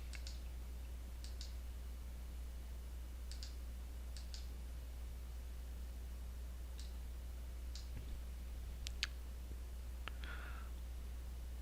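Keys pressed on a computer keyboard while using CUBIC municipal billing software: a handful of sparse, faint clicks spaced irregularly over a steady low hum, with no talking.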